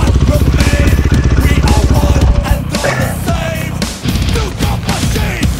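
A KTM 500 EXC dirt bike engine revs loudly nearby on a sand hillclimb, with rough pulsing bursts of throttle rising and falling; voices shout briefly over it.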